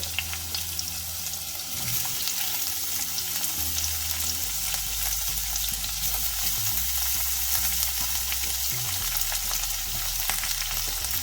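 Ginger, tomatoes and chilies for a roasted red and green chutney sizzle and fry steadily in a pan, a continuous close hiss with light stirring, and no voices.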